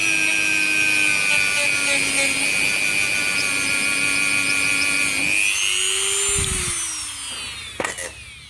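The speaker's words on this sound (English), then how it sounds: "you can just give him a little bit of a touch up with your Dremel" A Dremel rotary tool touches up the O-ring face of a fuel tap, giving a loud, steady high whine that runs for about five seconds, then shifts pitch and winds down toward the end.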